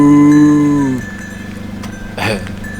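A loud, close cow moos once with a long harmonic low call lasting about a second in a Sardinian mountain setting, followed by quieter background noise and a brief rustle.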